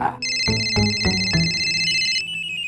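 A phone rings with a bright electronic ringtone held for about two seconds, with a few low thumps underneath.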